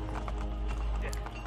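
A horse's hooves clip-clop with a brief whinny in the video game Assassin's Creed Brotherhood, quiet and close under game ambience and a voice.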